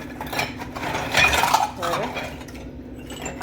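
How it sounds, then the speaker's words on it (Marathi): Brass prayer vessels and utensils, including a temple bell, being washed, with metallic clinks and clatter of the pieces knocking together over running water, close and fairly steady, without talk. "हे सगळी भांडी आता मी ह्याच्यात वॉश करून घेते"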